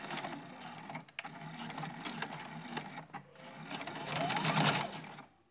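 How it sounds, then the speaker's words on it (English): A sewing machine stitches a beginner's fabric purse, back stitching at the start, in a steady close whirring run that pauses briefly near one and three seconds and swells louder toward the end. "At the machine here, I'm definitely going to back stitch at the beginning."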